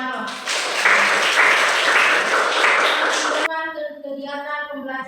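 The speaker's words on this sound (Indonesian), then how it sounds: "tepuk tangan untuk Nawaro" Classroom audience applause for a student named Nawaro, a dense burst of clapping for about three seconds that cuts off abruptly, followed by a voice speaking.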